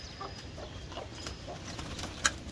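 A chicken clucks in short bursts while attacking a pigeon, several brief calls spread over a couple of seconds with a sharp flap or squawk near the end, heard close over a steady background hiss.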